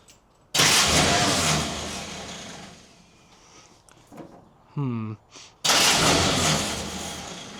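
A 1950 Willys M38 jeep, started for the first time in 15 years, cranks loudly in bursts, then catches and runs rough. A voice comes and goes between the bursts.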